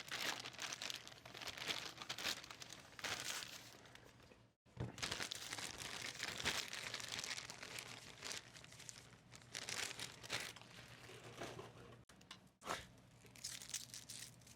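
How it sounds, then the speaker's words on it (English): Plastic bag wrapping a Mackie MainStream streaming device being cut open and pulled off, with close, continuous crinkling and tearing rustles and a brief pause midway, no talking. "So let's cut this bag open here really fast."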